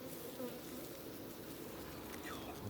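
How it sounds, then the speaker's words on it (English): A wasp buzzes around beehives, a steady insect drone that persists at low level throughout, faint and continuous over outdoor hive noise. "wasp again"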